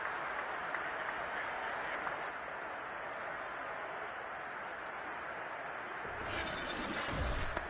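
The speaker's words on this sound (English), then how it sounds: "Plenty of shouts from this crowd as they watch the replay." UFL Snowhawks football stadium crowd roaring and shouting during a replay, a dense, continuous wall of distant voices and cheering with a louder swell toward the end.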